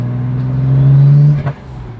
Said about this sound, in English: The one thing I don't love about this car is the exhaust tone, though.